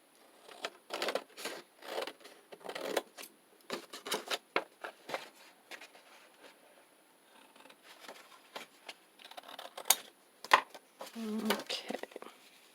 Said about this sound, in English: so we're going to cut off this bottom piece here